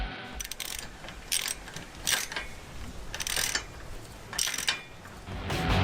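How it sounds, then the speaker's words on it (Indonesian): A ratchet fastener is tightened on a spit holding a 95 kg deer, giving several short bursts of clicking pawl noise at close range over a steady outdoor background. "Kencangkan pengencang."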